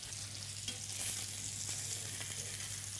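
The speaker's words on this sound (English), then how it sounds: "we allow it to saute for a little bit" Vegetables, tomatoes, pepper and salmon sautéing in a restaurant pan produce a faint, steady hissing sizzle with a low background hum and a few soft stirring taps, no voices.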